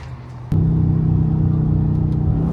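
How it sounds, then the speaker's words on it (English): A Dodge Charger 392 Scat Pack V8 fires up with a sudden sharp onset, then settles into a loud, steady, deep burbling exhaust rumble at close range. "Let y'all hear the whip."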